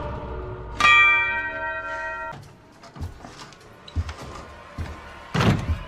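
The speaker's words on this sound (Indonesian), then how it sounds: "saat bunyi lonceng ketiga dibunyikan" A single loud bell strike rings out and slowly fades, followed by a few dull thumps and knocks.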